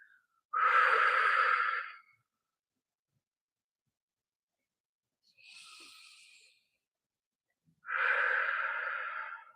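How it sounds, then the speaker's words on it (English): A person breathes deeply and slowly, with two long, breathy exhales that sit close to the microphone. A softer, shorter breath falls between them, and the gaps are quiet. "exhaling long."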